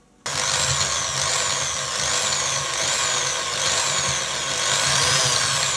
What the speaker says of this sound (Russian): Вот я просверлил отверстие ровненько и аккуратно.